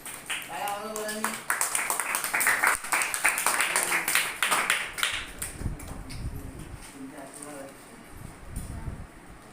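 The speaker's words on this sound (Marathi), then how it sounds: "एकदा जोरदार टाळ्या वाजवून त्यांचं आपण स्वागत करूया" A classroom of students claps to welcome a visiting guest during a summer-vacation extra class, with a dense burst of applause in the first half that thins into scattered claps, under a teacher's voice and children's chatter.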